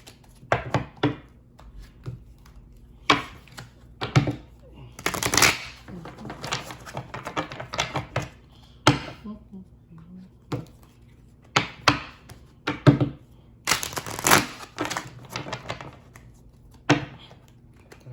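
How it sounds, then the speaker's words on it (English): Repeated bursts of tarot cards being shuffled up close, sharp papery slaps and riffles in an irregular rhythm with short pauses between. "it's got all been out of shape from me shuffling these cards"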